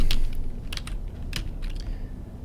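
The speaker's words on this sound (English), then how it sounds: "I just start typing." Quick keystrokes clatter on a computer keyboard while text is entered into a presentation program, a close run of crisp clicks over a low background hum.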